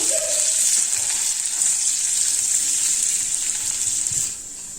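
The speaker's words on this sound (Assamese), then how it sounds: "পিঁয়াজটো ভজা হৈ গৈছে" Onions fry in hot oil in a pan on low gas with whole coriander seeds, a dense, steady hiss that holds close and even for several seconds before dropping slightly at the end, no talking.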